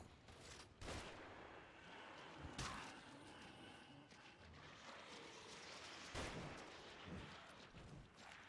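Bursts of gunfire from enemies in the horror video game The Evil Within, several loud cracks over a constant busy din of game sounds and effects.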